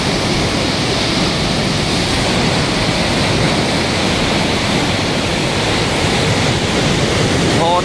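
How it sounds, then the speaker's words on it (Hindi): Fast water of the Chambal canal rushing into a tunnel, a loud, steady, broadband roar that holds without a break from start to finish. "कितना वेग से पानी आ रहा है देखिए"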